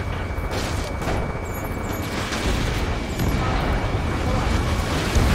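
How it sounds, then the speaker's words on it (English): Dense, continuous rumbling roar with scattered bursts of gunfire and jets overhead, loud and steady throughout, a city battle soundscape from the video game Ace Combat 7. "Gunfire and the roar of jets echoing through the streets."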